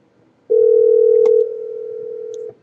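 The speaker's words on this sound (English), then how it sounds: "And that's the fourth ring." One long, steady ringback tone sounds during an unanswered survey phone call, clear and close on the line, lasting about two seconds between brief silences, with no voices.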